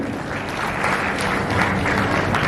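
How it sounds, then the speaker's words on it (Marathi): An audience claps at a felicitation ceremony for meritorious students in Ahmednagar, a dense, continuous round of applause at close range. "टाळ्या वाजवा नाही तर कंजूसी करू नका"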